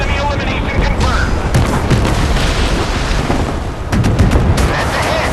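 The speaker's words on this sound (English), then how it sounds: "Missiles launched." Missile launches and explosions from the Force of Warships naval combat game make a loud, continuous roar of booms and blasts, with a voice speaking over the din.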